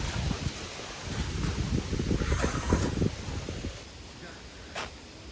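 Strong wind buffets the microphone in low rumbling gusts, with leaves or grass rustling and a voice speaking briefly.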